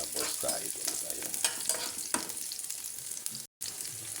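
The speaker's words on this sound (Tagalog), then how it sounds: "dito sa ating isang kawali, tayo ay magigisa na rin doon sa ating lulutuin, ginataang suso" Aromatics sauté in a kawali pan for ginataang suso, snails cooked in coconut milk, with a continuous close sizzle, stirring scrapes and a brief drop to silence near the end.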